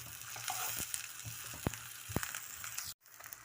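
Garlic and spices, including a small cinnamon piece, frying in a pan for a lemon chicken masala, giving a steady close sizzle with a few sharp pops and clicks before a brief cut near the end.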